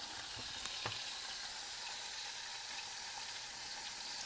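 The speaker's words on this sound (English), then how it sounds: "Just get your mushrooms softened a bit in that oil." Mushrooms frying in oil in a pan give off a steady, soft sizzle and crackle, broken by a few faint clicks and stirring sounds, with no talking.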